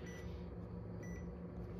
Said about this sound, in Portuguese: Vou mostrar para você aqui o bip.